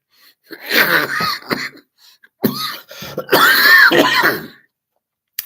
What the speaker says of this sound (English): I love the hacking cough.